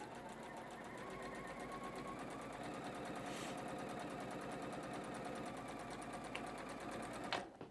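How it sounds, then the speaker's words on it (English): A sewing machine stitches a quilt block cut from batik fabric, running steadily and fairly close for several seconds before stopping abruptly near the end, with no talking over it. "We're gonna stitch this on."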